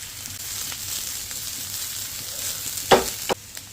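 Cabbage stir-fried with capsicum in a pan for Maggi noodles, a steady close sizzle with a few sharp scraping stirs near the end.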